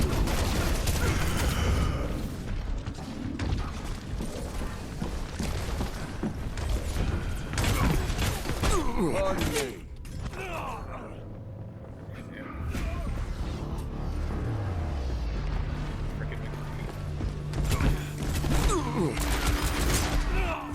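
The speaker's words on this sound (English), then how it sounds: "Turrets being destroyed." Mechanical destruction sounds from turrets being wrecked in the video game Overwatch, with clanking, creaking machinery and bursts of gunfire layered over dense game noise and speech-like voices throughout.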